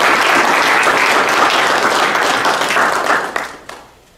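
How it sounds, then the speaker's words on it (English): A crowd at a senior signing day ceremony gives a student a loud, dense round of applause that holds steady, then thins into a few last claps and fades out. "Let's give her a round of applause."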